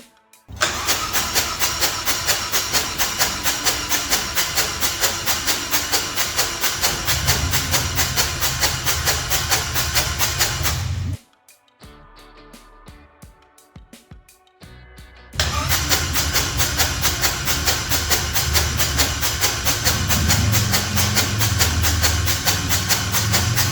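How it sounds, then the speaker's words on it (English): A Harley-Davidson Street Glide engine cranked over on the starter with the spark plugs out, a loud, steady, rapid whirring chug in two long runs separated by a quieter pause of about four seconds. "I'm just going to crank it over without the spark plugs in it for a bit, just to get some oil primed up and push through the system."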